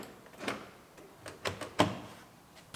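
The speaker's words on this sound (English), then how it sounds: "Make sure our door lock works." A car door lock actuator on an Acura RDX being rebuilt after a total clicks and thunks in a few quiet, short mechanical bursts, heard up close with no talking.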